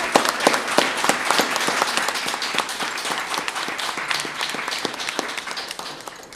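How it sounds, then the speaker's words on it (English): Steady, full applause from an audience at a 2013 scholarship award ceremony, with many hands clapping densely and evenly for the whole stretch at a moderate, constant level. "we ought to applaud that because that's important"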